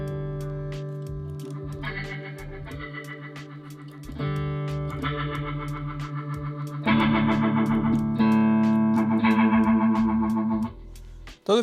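Electric guitar played through a Strymon Lex V2 rotary speaker pedal with preamp gain turned down, sustained chords swirling with a warbling rotary chorus, growing louder in steps with slight grit before ending abruptly.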